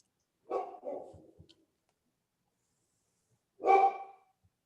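Dogs barking late at night: a short cluster of two or three barks, a pause of silence, then another single bark, moderately distant against a quiet background.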